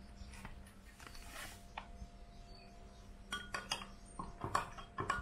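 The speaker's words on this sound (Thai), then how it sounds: "พยายามคนให้มันละลายนะ" A utensil clinks against a glass or dish while gelatin is stirred into microwave-warmed water for beer clearing, with a run of light taps and chinks near the end, no talk.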